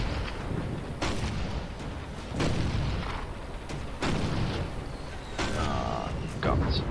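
Artillery guns firing in the World War I video game Toy Soldiers, a run of loud booming blasts about once a second over a dense battle din.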